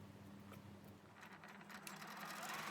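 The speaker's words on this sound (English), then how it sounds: "Now we will be stitching on the top 5/8 of an inch on both sides." A sewing machine stitches along the top of a summer dress, a soft, low, continuous mechanical hum with faint ticking that picks up slightly toward the end.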